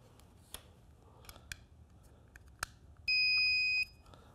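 The low-primer alarm on a Dillon RL550C reloading press gives one sustained electronic beep of about a second, loud and close, after faint clicks and handling sounds.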